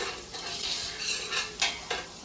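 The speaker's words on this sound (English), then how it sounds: "Now I get everything scraped off the bottom." A utensil scrapes tomato paste and vegetables off the bottom of a pot over lowered heat, several loud rasping strokes with a faint sizzle underneath and no talking.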